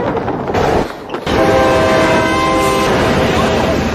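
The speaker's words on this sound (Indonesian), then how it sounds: "tiba-tiba ada kereta yang melintas" A train rolling past on the railway track near a tunnel, a loud, close, continuous rumble with a sustained horn-like tone building after a brief dip, filling the whole stretch.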